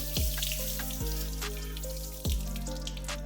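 Water rinsing off a car wheel and brake caliper while brake dust is washed away: a steady, close spray hiss broken by a few sharp knocks and splashes, with no voices.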